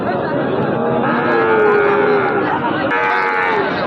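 A Sahiwal cow moos loudly and close by at a cattle market, one long drawn-out low call that fills the whole moment, with crowd noise faintly behind.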